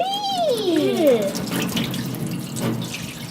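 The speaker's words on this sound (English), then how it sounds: "So we're gonna pour a couple gallons of this in here." Concentrated cleaner mixed with water is poured into a new parts washer, making a steady splashing, running pour with a bubbling glug near the start, close and fairly loud throughout.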